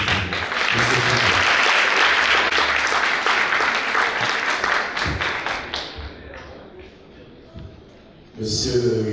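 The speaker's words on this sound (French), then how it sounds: "Applaudissez encore une fois, s'il vous plaît." An audience applauds at a university graduation ceremony in Haiti, a sustained loud wash of clapping that gradually thins and fades, followed by a voice speaking at the end.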